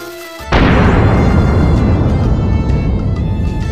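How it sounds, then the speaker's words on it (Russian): An explosion in the Roblox game Lumber Tycoon 2: a sudden loud blast bursts in after a brief quiet moment, then a long rumbling roar slowly fades. "Ладненько, взрываем. Сейчас мы тут бахнем."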